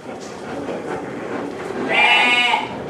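A fat-tailed dumba sheep on a farm lets out a single loud, wavering bleat close by, over a low background murmur.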